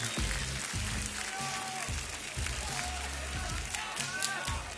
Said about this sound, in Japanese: フリークスに大きな拍手送ってください。